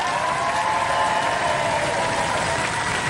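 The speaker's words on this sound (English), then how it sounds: "give him a round of applause, ladies and gentlemen" A steady roar of studio audience applause at the close of a Robot Wars episode, continuous and even, with a sustained tonal hum running beneath the clapping.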